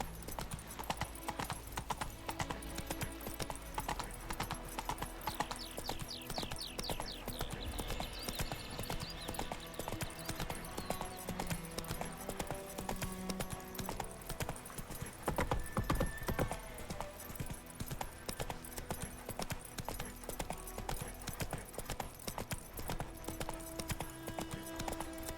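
Roach, the horse in The Witcher 3 on PC, clip-clops steadily along with occasional whinnies, the hoofbeats continuous over game music and ambience for the whole stretch.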